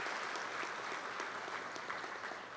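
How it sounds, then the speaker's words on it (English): Steady audience applause at a university chancellor installation ceremony, a dense, even patter of many hands clapping, moderately distant and continuing throughout. "Please join me in applauding him on behalf of our country."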